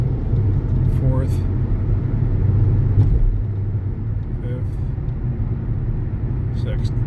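A 2011 Hyundai with a severe oil leak accelerates from a stop, its engine rumble loud and close inside the cabin, dipping and shifting as it changes up through the gears.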